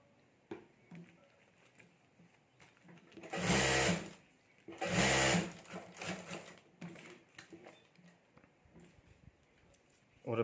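A sewing machine stitches a clutch bag lining in two loud, close bursts of rapid mechanical chatter, each about a second long, surrounded by quieter handling and fabric noises.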